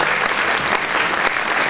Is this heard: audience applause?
yes